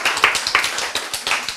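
An audience claps briefly at a Bible lecture, a short burst of quick, light handclaps with faint voices mixed in.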